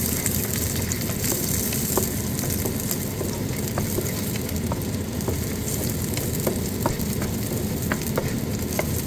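Garlic frying in a pan for a stir-fried pork with mixed vegetables dish, a dense continuous sizzle with occasional light spatula ticks, close and steady throughout.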